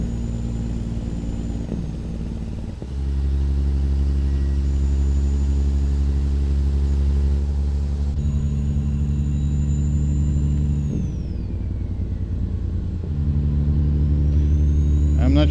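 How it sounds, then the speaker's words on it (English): A heavy logging truck engine rumbles with low steady harmonics, shifting into a deep staccato Jake brake drone, close and loud with no talk. "Love the Jake brake."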